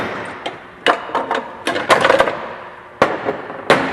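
Gears and parts from a Club Car golf cart transaxle rattle and clank as the case is shaken out, a series of sharp, loud metallic knocks at irregular intervals, close up.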